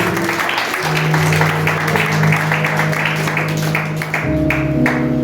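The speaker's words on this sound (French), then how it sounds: "Si tu veux acclamer, acclame bien" A church congregation applauds and cheers during a sermon, a loud sustained crowd clatter over steady musical tones that shift near the end.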